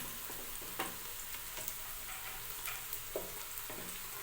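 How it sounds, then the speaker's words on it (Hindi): Paya is being fried (bhuna) with garlic and onion in a pot, a soft, steady sizzle that runs throughout with a few light stirring clicks and taps. "अगर आप इसको 4 से 5 मिनट तक भून लेते हैं अच्छे से"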